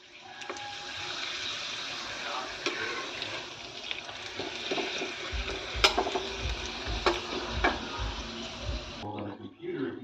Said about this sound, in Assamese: এইফালে পাপৰ এখন ভাজি লওঁ ধুমকৈ।